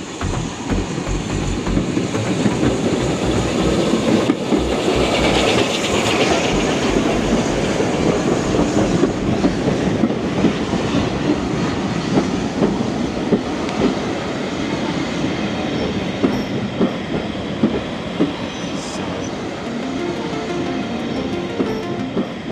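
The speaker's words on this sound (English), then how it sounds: "the amazing sound of the steam train approaching could be heard" A steam train on the Swanage Railway rumbles and clatters steadily nearby, wheels clicking over rail joints with a continuous heavy roar and faint squeals, no voices.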